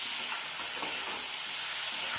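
Pasta stirred and fried in a pan, a steady broadband sizzle with scraping stir strokes running continuously and close throughout.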